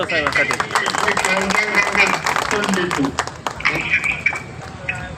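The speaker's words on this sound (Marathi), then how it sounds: "टाळ्या" An audience at a public meeting claps in thanks to Sharad Pawar, with scattered, uneven hand claps mixed under someone speaking loudly.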